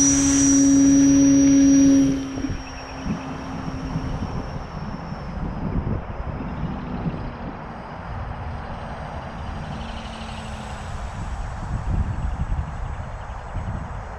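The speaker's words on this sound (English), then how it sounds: "See how slow they go, these Autogyros." An autogyro flies slowly overhead with an engine drone and whirring rotor blades, loud and steady under strong wind buffeting, with a louder tonal whine during the first two seconds.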